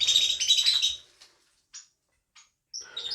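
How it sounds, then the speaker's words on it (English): Small birds squabbling over food, giving a quick cluster of high, close chirps and tweets, then sparse short calls after a pause. "the birdies are fighting over the food"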